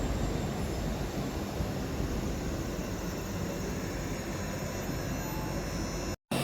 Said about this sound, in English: Departing out now is the 1519 Scotrail service from Edinburgh Waverley to Helensburgh Central